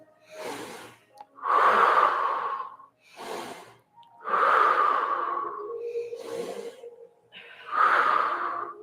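During a movement exercise class, a person draws several long, loud breaths in through the nose, alternating with shorter, softer puffs, close and clear with pauses between.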